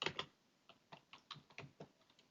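Someone types a short terminal command on a computer keyboard, a quick run of soft, close key taps in an irregular rhythm, fairly quiet with no talking.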